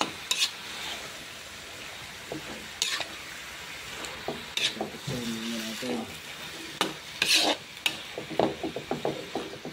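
Plenty of chillies sauté in a pan for ginataang gabi, with a continuous sizzle broken by repeated scraping and clattering of a utensil against the pan.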